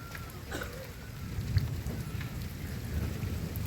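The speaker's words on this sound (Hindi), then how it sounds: "बादलों की तेज़ गड़गड़ाहट है, काफ़ी तेज़ बारिश होती हुई।" Heavy rain falls in hilly country in Uttarakhand as a steady, faint hiss, with a low rumble of thunder rolling underneath and no voices.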